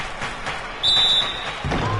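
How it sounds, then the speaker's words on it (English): A referee's whistle sounds once at an NBA Finals basketball game between the Jazz and Clippers, a sharp, shrill blast under arena crowd noise, followed by a thud. "So he gets the whistle"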